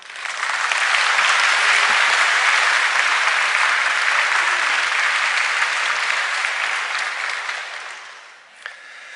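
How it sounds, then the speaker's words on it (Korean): Loud, sustained applause from a church congregation at a Wednesday worship service, welcoming a pastoral candidate to the pulpit, filling about eight seconds before fading out. "나오실 때 큰 박수로 환영해 주시면 감사하겠습니다"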